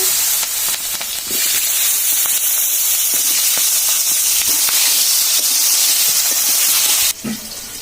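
Fried fish sizzling loudly in hot oil as cumin seeds and potatoes go into the pan, a steady close hiss that carries on without a break and picks up with fresh crackle near the end.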